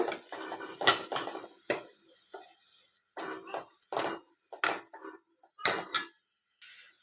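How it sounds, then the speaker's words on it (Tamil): A spoon scrapes and clatters against a pan in irregular strokes while chopped onions are stirred, with a faint sizzle underneath. "ரெண்டு பெரிய வெங்காயம் பொடி பொடியை நறுக்கி வச்சுருக்கிறேன் அதையும் சேர்த்துக்கலாம் நல்லா வதக்கிக்கோங்க"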